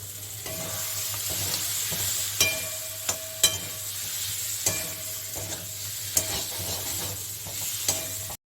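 Boiled potatoes fry and sizzle steadily in a pan, with a soft constant hiss and repeated scraping, clinking strokes as a spoon stirs them.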